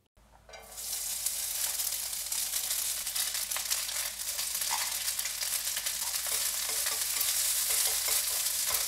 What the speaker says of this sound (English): you want to keep checking the bottom to see how much it's frying